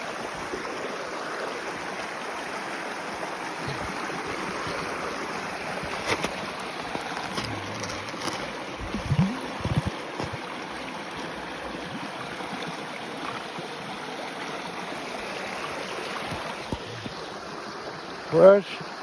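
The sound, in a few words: glacier creek water flowing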